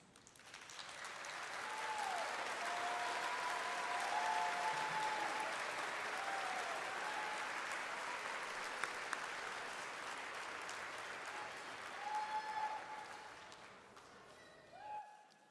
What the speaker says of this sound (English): we're going to give them all a round of applause